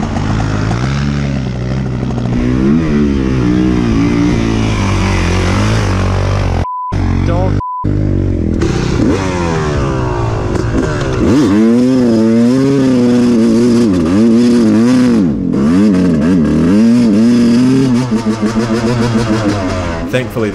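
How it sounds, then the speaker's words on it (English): Yamaha YZ, Kawasaki and KTM dirt bikes rev hard nearby, engines rising and falling in pitch with wavering throttle, loud and continuous, with a voice speaking over parts of it. "This, and the Kawasaki going straight through without missing a beat, made Lenny very cross."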